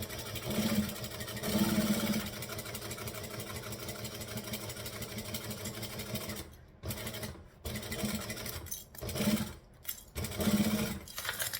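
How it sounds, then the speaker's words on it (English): Sewing machine stitching a 1/8 inch seam, a close, buzzing motor whir in bursts with brief pauses between runs, no talk. "I'm going to stitch with 1/8 of an inch."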